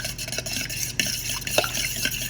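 A spoon or whisk stirs melted butter, egg and milk together in a bowl, making soft, continuous scraping and sloshing with small clicks against the sides, quiet and close.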